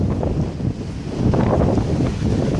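Waves wash steadily onto a beach on a windy coastline, a continuous loud rush of surf mixed with gusting wind buffeting the microphone, with no voices.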